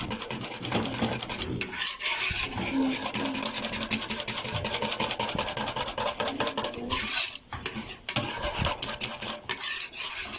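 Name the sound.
stirring fenugreek in a cooking pot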